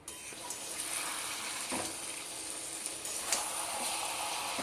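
Mutton pieces with onions sizzle and fry steadily in a hot pan, a continuous close hiss with occasional stirring scrapes.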